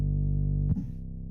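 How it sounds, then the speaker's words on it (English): A steady synthesizer tone from Reaper, a pure sine wave, hums evenly at a low pitch before a brief glitchy shift midway, then carries on more quietly. "It is a sine wave, basically, and it's useful."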